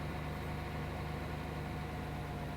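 A tractor engine idles in the farming game Farming Simulator 17, giving a steady, even low drone with a constant hum and no speech over it.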